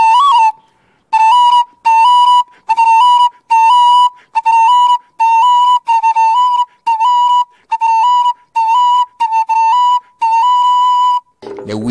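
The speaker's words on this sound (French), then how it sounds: "C'est les danseurs qui suivent les pas que les sifflets disent de faire." Whistles of the traditional Wiré dance blow a run of loud, shrill, even-pitched blasts. They come in a steady rhythmic pattern of short and longer bursts, close by, with no talk.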